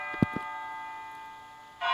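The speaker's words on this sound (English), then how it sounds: "It sounds like a bell, but where's it coming from?" A bell rings in the video game Persona 3 Portable: two quick, fairly loud metallic strikes near the start, then a long sustained ringing tone that fades slowly before a brighter swell returns at the end.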